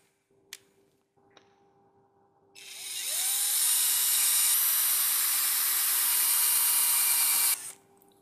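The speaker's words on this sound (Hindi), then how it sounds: "अब इसमें होल ड्रिल करते हैं।" A power drill bores holes in a small hobby build, a steady high whine that starts after a few faint knocks, runs loud and continuous for about five seconds, then stops abruptly.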